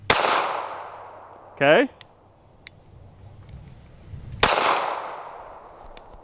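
Two sharp, loud reports from a Smith and Wesson Bodyguard pistol fired outdoors, spaced a few seconds apart with a long ringing decay after each, a short spoken word between them and a few faint clicks.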